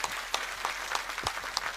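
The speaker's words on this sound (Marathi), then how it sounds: "पुन्हा एकदा आपण सर्वांनी टाळ्या वाजवून त्यांचं मनापासून या ठिकाणी" An audience at a rally applauds to welcome a guest, a brief even patter of many hands clapping, somewhat distant and moderately faint.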